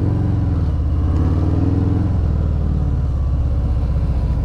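A Harley-Davidson Fat Bob 114 with a stage 2 tune rumbles along on a ride to the Norfolk coast, its deep, loud, throbbing engine note steady and close, easing slightly partway through.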